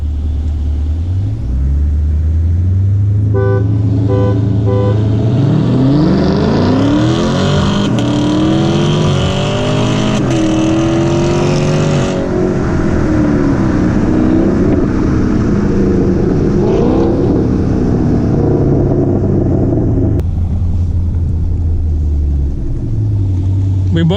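A Camaro SS and a Challenger SRT 392 rev and accelerate hard in a drag race from a roll, engines climbing through gears with a loud roaring rumble, shifting several times before easing off; a voice is briefly heard.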